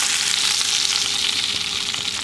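Steak sizzling loudly in a pan while being basted with rosemary, a dense continuous hiss close up with no talking.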